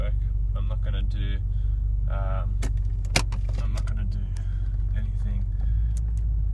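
Interior of a Nissan R33 GTS-t driving, a steady low engine and road rumble throughout with a sharp click partway, while someone talks over it.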